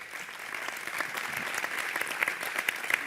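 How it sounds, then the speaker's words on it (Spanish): Fairly faint audience applause at a marine science seminar in Valencia, an even spread of clapping hands with a few sharper claps standing out near the end. "sa Zabel, presidenta de la Fundación Ecomar, para las que pido, por favor, un fuerte aplauso."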